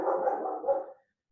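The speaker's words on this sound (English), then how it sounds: "That's my dog wanting to get her word in as well." A dog gives a single muffled bark that trails into a short whine, close by and moderately loud, then stops into silence.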